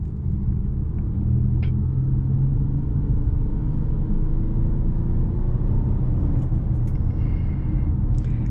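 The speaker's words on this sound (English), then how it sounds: "So the road noise in this car is a little loud" Steady low rumble of tires on pavement inside a moving Acura MDX, a constant dull drone throughout with faint higher rattles near the end.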